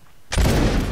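A musket volley rings out in the Mount and Musket video game, a line of soldiers in double rank firing together: one sudden, loud, close crack that swells into a dense rolling roar and holds for the rest of the moment.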